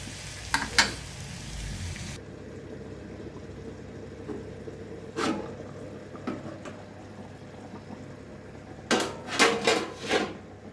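A fish curry with bottle gourd bubbles and sizzles steadily at a low level in a pan, broken by a few sharp clinks and scrapes of utensils against the pot.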